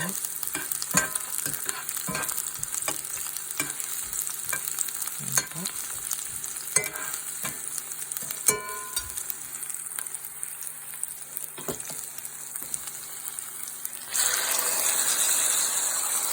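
An eggplant omelette with tomato fries in a pan, a close crackling sizzle punctuated by frequent clinks and scrapes of a utensil, with the frying growing louder and denser near the end.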